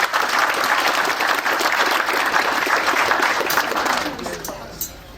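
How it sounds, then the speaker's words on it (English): Round of applause for Gene at a 20th anniversary ceremony honoring Pawnee Scouts and a seed preservation society; steady crowd clapping that thins out and fades toward the end. "So another round of applause for Gene."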